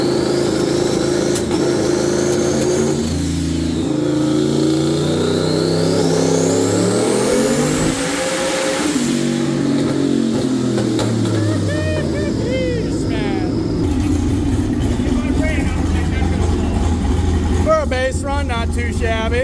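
A turbocharged racecar engine built from Temu parts, running on a dyno with a push-button boost controller, revs loudly through rising and falling sweeps and stumbles unevenly through one stretch, with a voice present over parts of the run.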